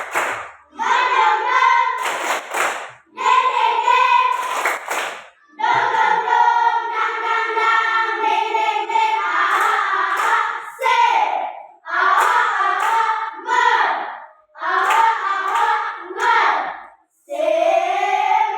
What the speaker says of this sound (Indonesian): Coba kita tepuk semangat sekali lagi.